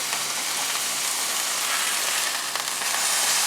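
Thin taco-stuffed hamburger patties sizzle steadily in a hot pan, a loud, even crackling hiss that carries on throughout with no talking.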